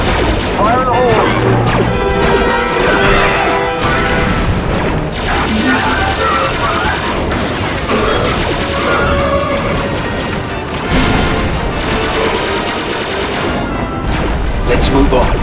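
Grenade blasts and heavy crashes in the Star Wars Republic Commando PC shooter, loud and dense across the whole stretch, mixed with gunfire and battle clatter.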